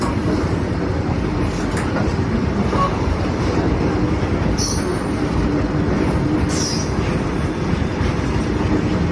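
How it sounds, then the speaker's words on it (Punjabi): A long freight train rumbles by close at hand, wheels clattering steadily with occasional high metallic squeals rising above the roar. "ਮਾਲ ਗੱਡੀ"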